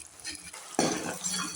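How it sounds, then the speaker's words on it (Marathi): A spoon scraping and stirring tomato puree masala in a pan, with soft scrapes and then a sharper clink of utensil against metal, close and fairly quiet with no voices. "तेल सुटेपर्यंत हे हलवत राहायचं आहे."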